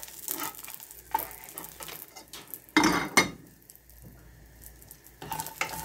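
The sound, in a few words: garlic roasting in its skin in a pan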